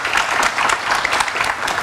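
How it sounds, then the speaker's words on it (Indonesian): A studio audience on an evening political talk show applauds to welcome a guest, with dense, steady clapping sustained throughout and no voices over it. "Tepuk tangan yang meriah untuk narasumber saya, Sigit Widodo, Ketua DPP PSI"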